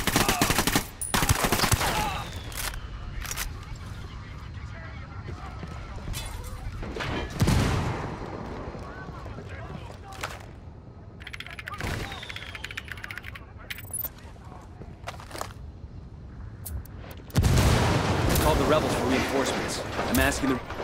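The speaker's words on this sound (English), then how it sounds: "Open fire." Gunfire in the video game Ghost Recon Wildlands crackles in repeated bursts, some loud and sharp and others farther off, while players talk over the action.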